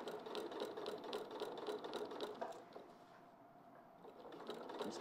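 Sewing machine stitching with a walking foot, a fast, even mechanical whirr and clatter close by that slows briefly mid-way before picking up speed again.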